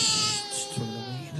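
A crying doll toy plays a recorded baby wail, a rising and falling whimpering cry repeated in a couple of bursts, fairly loud and close.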